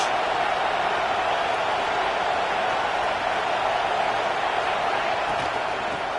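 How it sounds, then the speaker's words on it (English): A dense stadium crowd roars steadily in a college football video game, a broad sustained wash of voices filling the space, loud and continuous throughout. "this crowd is turning it up a notch"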